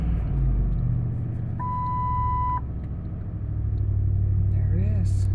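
A 1998 Lincoln Continental with the 4.6 engine idles just after a cold start at 29 degrees, a steady low rumble close by with a brief electronic chime over it and someone speaking near the end.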